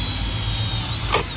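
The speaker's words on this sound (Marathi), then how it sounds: "बॅकच्या याला ड्रिल मारतात." A power drill bores in to fit a high-security number plate on the back of a motorcycle, giving a brief, steady, close mechanical whir.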